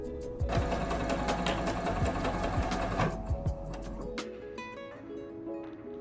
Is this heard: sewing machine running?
yes